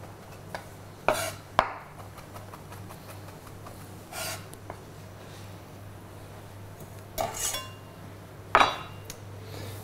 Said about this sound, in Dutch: Nou, dan moeten we wel even mooi fijn hakken